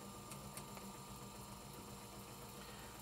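A desktop laminator runs as card and film feed through its rollers, giving a faint, steady mechanical hum with a few small ticks.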